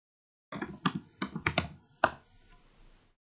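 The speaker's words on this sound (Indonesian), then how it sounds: "Kita ketikkan show VLAN." A command is typed on a computer keyboard, about eight quick crisp key clicks in an uneven burst, close and clear, ending with a firmer keystroke followed by quiet room hiss.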